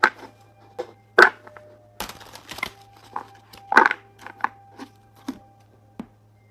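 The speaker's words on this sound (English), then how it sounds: "These are a little bit big to shuffle." Oversized tarot cards shuffled by hand, giving a close series of soft, irregular slaps and riffles with quiet gaps between them and no talking.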